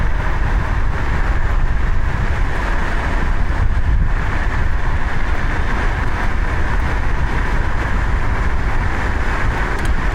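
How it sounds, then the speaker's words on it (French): Wind roar and a steady drivetrain drone from a fast electric scooter with both motors engaged, near 65–70 km/h on a steep climb, loud and continuous with no talk. "Là j'ai mis les deux moteurs."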